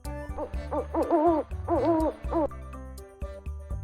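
An owl hooting in a children's animal-sounds lesson, giving several wavering hoots in a row over soft background music.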